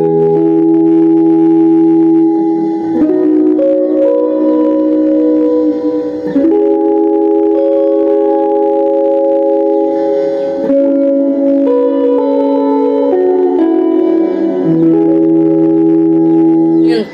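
Clean electric guitar played through a Cuvave Dig reverb pedal, sustained chords ringing in a wide, washy reverb tail for about seventeen seconds, loud and steady with no voices.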